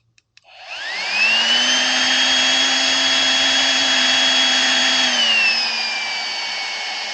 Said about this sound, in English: To actually get the pump to turn on, you have to press this twice, and then it'll default to the high mode.